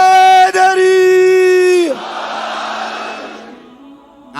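A crowd at a Muharram majlis gathering in Karachi chants a religious slogan together, a loud sustained unison voice that breaks into a rough, fading roar of many voices.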